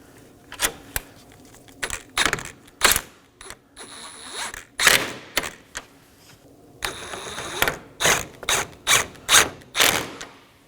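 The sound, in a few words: ratchet snugging down 10mm bolts on Nissan Maxima bumper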